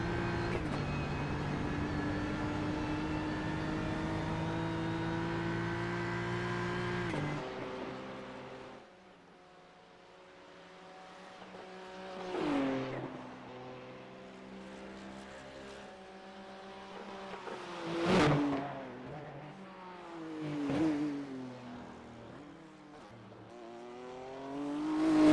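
A BMW M3 race car on the Bathurst circuit in a sim racing game: a loud, steady engine drone at first, then quieter stretches broken by several brief revving surges as cars pass.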